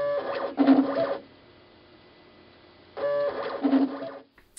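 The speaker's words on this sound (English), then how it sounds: "moves automatically from patch to patch, a huge number of patches that it's measuring" A Spectrolino spectrophotometer stepping automatically across printed colour patches on a printer-profiling setup: two short bursts of whirring, buzzing motor movement separated by a quiet pause, each lasting about a second, close by.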